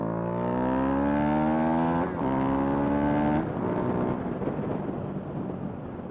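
A motorcycle fitted with a 16-tooth sprocket is ridden outdoors near sunset, its engine revving up in rising harmonic sweeps, briefly easing off, then climbing again loud and close throughout.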